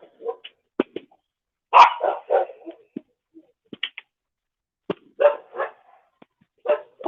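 Two dogs barking in short bursts and clusters, separated by brief silences, fairly close and loud with no talking.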